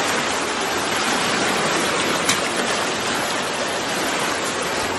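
An uncontrolled flash flood torrent pours past a house, a dense, loud, continuous rush and hiss of water that stays steady throughout with no voices.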